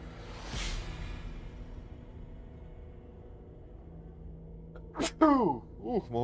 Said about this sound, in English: I sneeze so well.